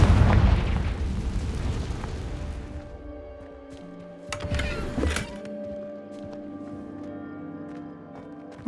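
A Confringo fire spell goes off in Hogwarts Legacy, a deep booming blast at the start that rumbles away, followed by a second, shorter burst and then scattered soft clicks and pops; no talking.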